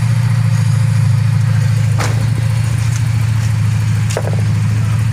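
A Honda Civic engine idles smoothly and steadily after a power steering service, a continuous low hum with a couple of faint clicks from the work around it and no talking.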